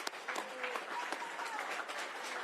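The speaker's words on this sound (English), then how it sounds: "Let's give another round of applause to our Governor." An audience applauds the Governor at an observatory project celebration, a steady wash of clapping from a crowd that fills the whole moment.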